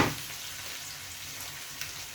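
Chopped ginger, garlic and green chilies hit hot oil with a steady, soft sizzle and hiss, a quiet frying bed throughout with a couple of faint pops near the end.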